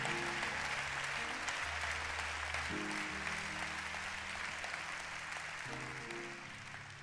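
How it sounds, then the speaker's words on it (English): A large church congregation applauds steadily and loudly for several seconds during a Sunday service, the clapping dense and continuous before tapering slightly at the end. "Give them another round of applause."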